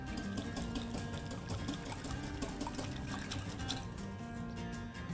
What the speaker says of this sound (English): I'm just going to pour all of our egg and cheese and oil mixture into these